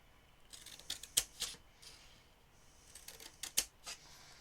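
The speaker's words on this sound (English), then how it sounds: "Then along the bottom here you are going to cut along that score line" Scissors cutting through card stock along a score line while making a small pen pouch: two short bursts of crisp, close snips a couple of seconds apart, with quiet pauses between them and no talking.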